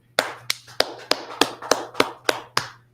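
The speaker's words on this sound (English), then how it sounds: "Let's clap it up for the Lord" A congregation at a Tuesday Brotherhood class claps for the Lord in unison, nine or so sharp, evenly spaced claps about three per second, close and crisp over a low steady hum.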